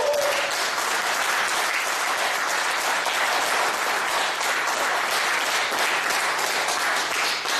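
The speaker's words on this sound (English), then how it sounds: "Let's give a big round of applause." Sustained, even applause fills a room at a Toastmasters club meeting, a dense steady clatter of many hands lasting several seconds without letup.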